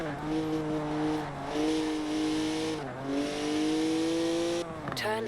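A BMW 1M with a 3-litre twin-turbo straight six revs hard in Forza Horizon 4, the engine note climbing and dropping through gear changes, loud and close, with brief tyre squeal near the end.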